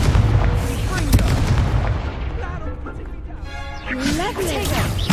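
Spells cast in combat in Hogwarts Legacy, including the Confringo fire-blast spell, give booming explosive bursts and crackles in a busy battle mix, with speech-like voices over them.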